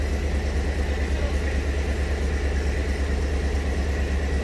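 A 2014 Chevrolet Suburban engine idles at a steady, deep rumble with a constant low exhaust drone through new catalytic converters, close by and unchanging throughout.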